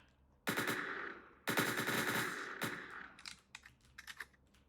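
Automatic gunfire in the video game Entry Point: two long rattling bursts, one right after the other, then a few short, scattered shots, fairly quiet overall with no talking.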